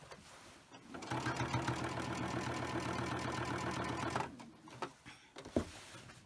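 A sewing machine stitches along the edge of a fabric shopping bag in white thread, a close steady whir of about three seconds, followed by a few handling clicks and knocks as the stitching stops.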